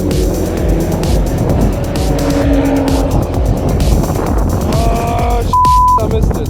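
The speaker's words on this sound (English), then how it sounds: "this GT3 RS is so damn awesome" A Porsche GT3 RS race car passes at the Nürburgring with a loud, close engine roar and tire squeal, a rising engine note near the end, and a shutter-like clicking over it.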